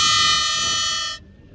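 Long, loud blast from a cheap 80-rupee replacement vehicle horn, a harsh buzzing tone held steady up close before cutting off sharply into quiet.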